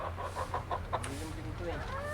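Farm chickens kept as poultry cluck in a short run of soft, rapid calls nearby, with a voice talking quietly underneath.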